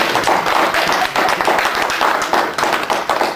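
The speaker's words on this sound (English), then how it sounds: "If you want to clap for God." A church congregation at a Holy Ghost service claps steadily, a loud, continuous wash of many hands with irregular sharp taps, sustained throughout with no talking over it.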